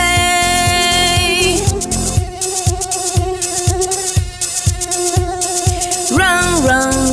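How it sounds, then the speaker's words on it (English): A cartoon-style mosquito buzz from a children's song sounds as a loud, close, steady pulsing drone that rises into a short whine near the end, with no voices. "Buzzy mosquito, buzzy mosquito, please don't ruin my"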